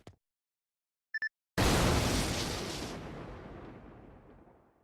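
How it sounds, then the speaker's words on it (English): An explosion in the Fate Grand Order anime: after a short electronic beep, a sudden loud blast hits and then rolls off into a long, slowly fading rumble lasting several seconds. "An explosion?"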